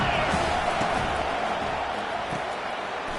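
Dense, steady roar of a college football stadium crowd at a Utah vs USC game, loud and constant throughout with no single voice standing out.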